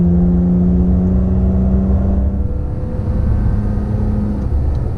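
A Toyota Tacoma pickup's engine drones loudly from inside the cab as the automatic transmission shifts in S mode, a steady low hum whose pitch drops at the gear change and then holds.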